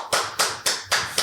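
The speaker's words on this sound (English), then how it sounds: "We got an applause." Four sharp, evenly spaced hand claps ring out close and loud, forming a short burst of applause.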